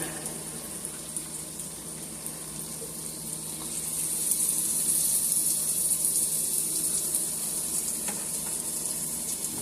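Fresh spinach hits a hot pot and is stirred, producing a soft, steady sizzle that grows a little louder partway through and keeps hissing quietly with no one talking.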